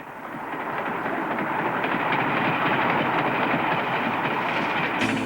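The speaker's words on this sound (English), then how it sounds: "an Amtrak, which races by at 80 miles per hour" An Amtrak passenger train roars past at close range at about 80 miles per hour, a steady loud rush of rumbling wheels and clatter filling the whole span.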